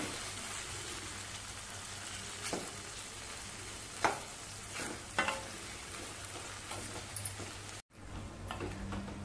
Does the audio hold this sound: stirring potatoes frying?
yes